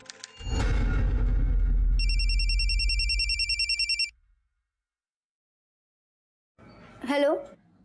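A telephone bell rings loudly and steadily for several seconds in a Goa crime drama scene, stopping abruptly; after a pause a voice speaks briefly.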